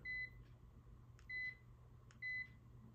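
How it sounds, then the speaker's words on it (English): A Bell Howell Socket FanLight, a light bulb ceiling fan, gives three short electronic beeps at even intervals over a low steady hum, fairly quiet and with no talk. "Oh, it beeps."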